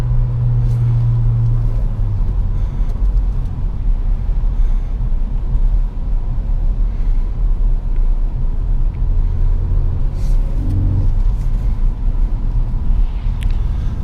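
A 2017 Ford Focus ST pulling hard in third gear on a snowy, slippery road gives a loud, continuous engine rumble and drone from inside the cabin, with steady road and tyre noise throughout.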